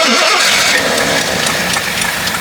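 A vintage 52-year-old Jeep Wagoneer with an old carburetor engine cranks and catches, then runs loud and close at a steady rough idle, with no talk over it.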